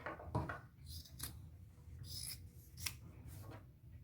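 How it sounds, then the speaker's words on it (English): Scissors snipping across two stacked blazer sleeves, a few quiet, close crisp cuts with small rustles of fabric between them. "I am just going to cut across both sleeves"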